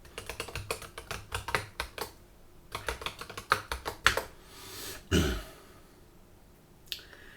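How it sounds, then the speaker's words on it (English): A password typed on a computer keyboard, close and distinct irregular bursts of key clicks with brief pauses, ending in a couple of firmer key taps. "I'm going to go in here and give it my top secret super duper password here."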